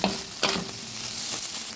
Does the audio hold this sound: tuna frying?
yes